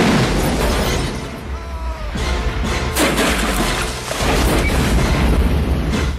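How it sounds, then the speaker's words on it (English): Film sound effect of Air Force One, the presidential jet, crashing into the ocean: a loud, sustained rumble and roar with surging bursts of crashing water and impact, dense and continuous from start to finish. "When Air Force One crashes into the ocean, the entire scene becomes laughable."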